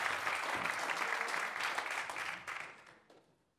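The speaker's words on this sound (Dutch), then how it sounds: "Doe hem even applaus gewoon omdat het kan." Applause for speakers at a social media business event, a thick burst of clapping that holds steady and then tapers off to silence.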